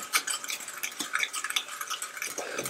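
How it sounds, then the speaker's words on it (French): Banana cake batter being mixed in a bowl, with sugar just added, giving a steady run of close scraping and clinking strokes of a utensil against the bowl, with no talking. "Je mélange."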